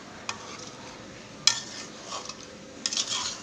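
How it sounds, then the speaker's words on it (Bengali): Goat head and goat liver cook together in a pan, with a faint sizzle under occasional sharp clinks of a utensil stirring against the pan. "খাসির মাথা, খাসির কলিজা একসাথে রান্না করছি।"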